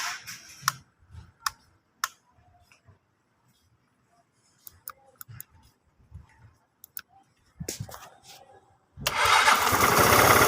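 A vehicle left unused for 13 months: scattered clicks and ticks come first, then the engine catches near the end and runs loud and steady, close by, with no talking.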